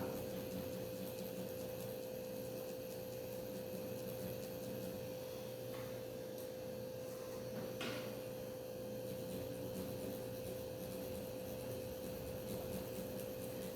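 Dermograph tattoo machine running on synthetic skin, a steady close electric buzz with a constant tonal hum, continuous and even for the whole stretch with no talk.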